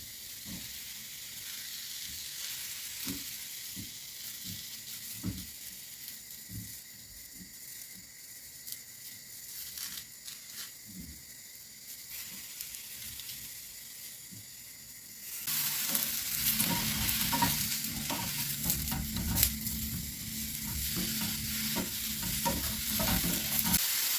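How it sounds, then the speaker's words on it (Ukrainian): Mushrooms fry in a dry pan with scraping stirs and occasional clinks, the sizzle growing noticeably louder and denser partway through. "Періодично перемішую, щоб добре всюди просмажились грибочки."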